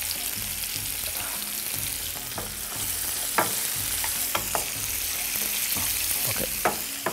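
Carrots and red chillies fry in a pan for a savory dish, a moderate sizzle broken by repeated sharp clinks and scrapes of a stirring utensil.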